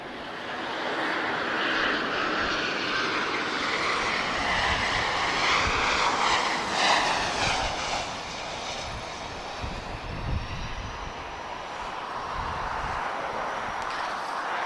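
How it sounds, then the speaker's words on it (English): A Ryanair passenger jet arriving at Lisbon Airport makes a steady, broad engine roar that holds loud for the whole stretch, with slight swells as it passes. "we do have Ryanair inbound. This is Foxtrot Romeo 1884. She's arriving from London Stansted."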